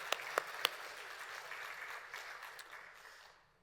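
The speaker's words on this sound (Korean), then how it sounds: "오늘 우리의 찬양을 받으실 하나님께 감사와 영광의 박수 올려드리겠습니다" Church congregation applauding the choir during a Wednesday worship service, a few sharp early claps swelling into steady, moderately distant applause that fades away toward the end, with no talking.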